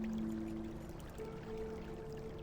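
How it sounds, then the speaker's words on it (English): Water pours steadily in the Black Mirror 3 video game, a continuous stream running alone at low level with a faint tonal hum beneath. "I guess it's rainwater that's pumped up again and again."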